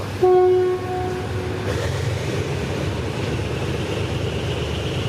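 A train horn sounds briefly and loudly, followed by a steady rumbling roar of the train rolling along the tracks by a dam in the evening.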